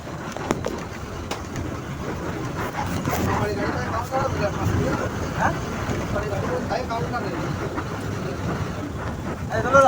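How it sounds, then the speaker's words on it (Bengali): A bus engine runs steadily through a Dhaka to Jessore road journey, a constant low rumble with road and wind noise filling the whole stretch, with occasional faint voices inside the cabin. "আপনারা হচ্ছে এনজয় করতে থাকুন হচ্ছে বাসের ইঞ্জিন সাউন্ডের সাথে"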